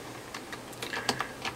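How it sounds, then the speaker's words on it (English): Computer keyboard typing while setting up a Minecraft world: a short run of light, irregular key clicks, close and moderately quiet, with no talking. "Let's type in."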